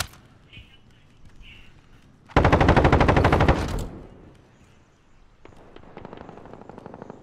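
Automatic gunfire from Call of Duty: Warzone hits in a loud, rapid burst of about a second and a half, followed later by a fainter, more distant rattling volley, with quiet game ambience between.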